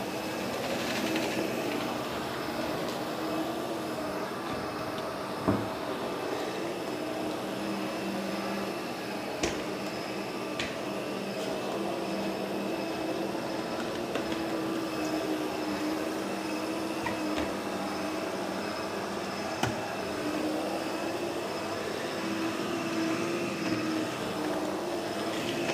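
A Hizero floor cleaner runs steadily across an indoor floor, giving a continuous close droning hum with a few sharp clicks and knocks and no talking.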